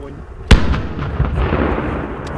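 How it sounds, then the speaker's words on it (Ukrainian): A single sharp blast from a demining team destroying WWII-era grenades (RGD-33 and F1) on site outdoors, with a sudden boom followed by a rumbling tail that fades into background noise. "знайшла 10 цілком боєздатних гранат часів війни, які прямо на місці ліквідували"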